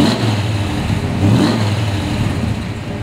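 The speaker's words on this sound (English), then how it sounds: "These cars just always start up." A 1967 Chevrolet Camaro RS/SS pro touring convertible running right after startup, a close, loud engine rumble with a couple of swells in revs before settling.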